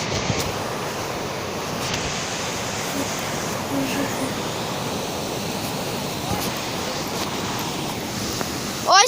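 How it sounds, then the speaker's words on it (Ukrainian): A flooded mountain river in the Carpathians churns in a steady, loud roar of rushing water and breaking waves, close by, with wind buffeting the microphone. "яка там хвиля, як там бурмоситься"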